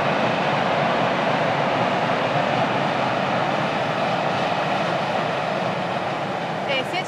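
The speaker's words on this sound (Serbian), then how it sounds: "Prolazi vlak." A train rolls past beside the railway line in Delnice, Croatia, making a loud, continuous rumbling roar that fills the whole stretch without a break.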